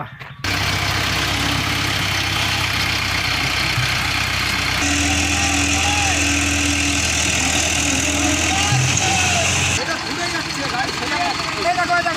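A tractor engine rumbles steadily and loudly as it drags an overturned trolley full of soil back upright, the engine note shifting partway through, with voices in the background.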